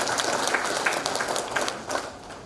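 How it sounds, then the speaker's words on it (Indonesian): Audience applause at the opening of the 2022 Wondama indigenous peoples' conference in Teluk Wondama, West Papua: a dense, steady wash of many hands clapping, fairly loud and continuous, with a few sharper individual claps standing out. "mari kita tepuk tangan."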